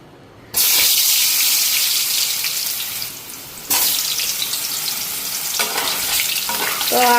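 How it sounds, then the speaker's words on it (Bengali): Potatoes seasoned with salt and chili powder fry in hot oil. A loud, steady sizzle starts abruptly and runs throughout, with brief stirring or scraping sounds near the end and no talking. "তো আলুটা আগে ভাজা নিতেছি"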